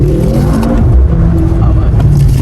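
Mercedes C63 S E Performance hybrid sedan driving, its engine giving a steady, loud low rumble with a few rising revs, heard up close from inside the car with no one talking.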